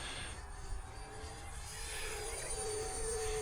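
An E-flite Habu 50mm electric ducted fan RC jet flying overhead with a steady high-pitched whine that swells and shifts in pitch as it passes, alone without talk.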